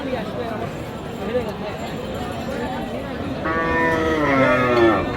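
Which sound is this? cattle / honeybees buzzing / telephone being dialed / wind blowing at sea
cattle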